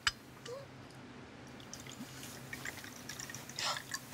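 A drink is poured into a glass at a table, a faint trickle and a few drips against quiet room background, without speech.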